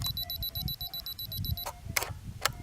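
A camera's 2-second self-timer beeping on a foggy lakeshore, a rapid run of short, evenly spaced high beeps that stops partway, followed by a few louder clicks and knocks, over low background rumble.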